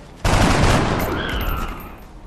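Gunfire from the video game XCOM: Enemy Unknown: a sudden loud burst of shots erupts after a brief quiet moment, followed by a lingering tail and a faint whine.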